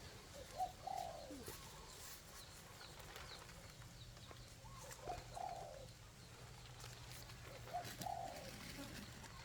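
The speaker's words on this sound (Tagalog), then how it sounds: "Ang sarap pakinggan yung mga ibon na" Soft cooing of pigeons or doves repeats three times at an even pace, distant and faint over a quiet outdoor background during plant repotting.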